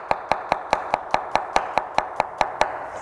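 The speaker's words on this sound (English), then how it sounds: "You're just using your wrist to actually create this chopping action." Knife chopping vegetables on a cutting board, twelve crisp, evenly spaced strikes in a quick steady rhythm, close and clear with nothing else heard.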